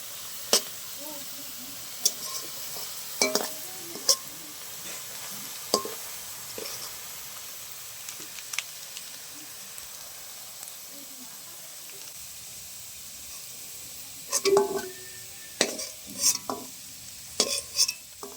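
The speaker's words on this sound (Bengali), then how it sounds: "পেস্তাগুলো ভালো করে লাল লাল করে ভেজে নিয়েছি" Pistachios fry in oil for a kalbose fish dish, a soft, quiet sizzle running underneath while scattered sharp clicks and scrapes of the spatula against the pan come in irregular bursts.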